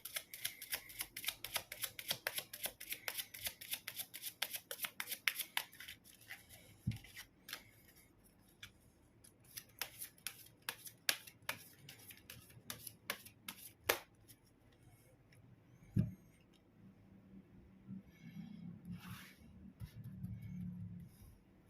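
Tarot cards being shuffled by hand, a fast run of crisp riffling flicks up close that thins into scattered snaps and soft handling sounds, with faint low murmuring near the end.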